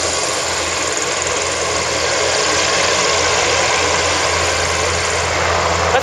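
A steady, low engine drone from a Goodyear blimp hums continuously, with a constant rumble and broad whooshing noise and no change in intensity or any voices.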